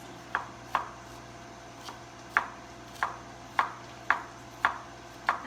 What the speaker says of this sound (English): just chopping this cauliflower up.